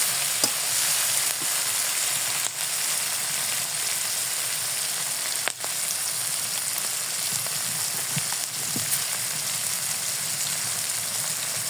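Fresh onions fry with salt in a pan, making a steady, even sizzle with occasional light clicks and spatters. No voices are heard.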